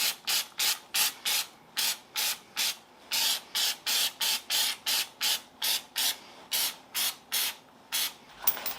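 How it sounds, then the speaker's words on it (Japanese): Chipping spray applied in short repeated bursts to the underbody of a Mazda RX-7 FD3S during restoration, about twenty close, loud hissing sprays with brief gaps between them. "そしてチッピングスプレー塗っておきます。"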